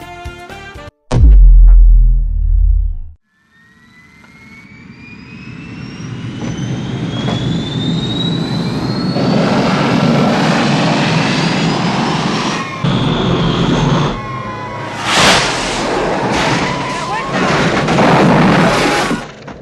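A tiny jet aircraft in the Octopussy pre-title sequence roars up after a brief loud burst, its rising engine whine building into a sustained, loud jet flyby with swelling rushes and booms toward the end.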